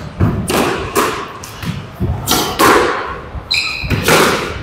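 Squash ball struck in a boast shot, smacking the side and front walls of a court in a series of loud, sharp thuds and bangs with squeaking shoes between impacts, close and echoing.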